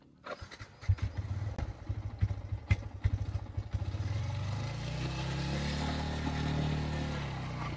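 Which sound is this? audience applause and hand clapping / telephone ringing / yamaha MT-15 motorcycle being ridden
yamaha MT-15 motorcycle being ridden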